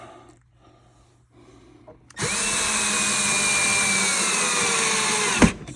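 A power drill drives screws into motorcycle saddlebag braces, whirring loudly and steadily for about three seconds after brief handling noises, then stopping with a sharp clunk.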